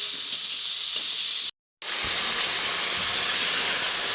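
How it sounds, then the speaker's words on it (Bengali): Onion and chicken sizzle in a hot frying pan, a loud continuous frying hiss with a brief dropout and a few soft clatters. "পেঁয়াজটা কিছুটা ভেজে নিয়ে তারপরে মাংসটা এর সঙ্গে অ্যাড করছি।"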